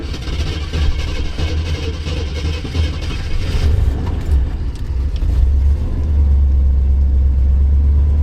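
A 1966 Ford Thunderbird engine runs steadily up close, a deep mid-range hum that swells slightly louder partway through, with no voices.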